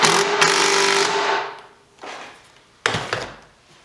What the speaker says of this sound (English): I'm going to run the rest of the screws, starting with the opposite corner so that I lock it in.